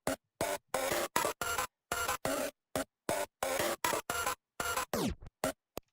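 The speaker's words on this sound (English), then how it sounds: "Yeah, the Undertale alarm. Just really pitched down." A pitched-down Undertale alarm run through Deep Blue Glitch and Crusher effects plays as choppy, gated bursts with silent gaps between them, ending in a downward tape-stop sweep.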